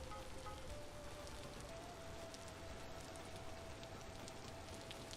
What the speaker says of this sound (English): I was hoping to stop the rain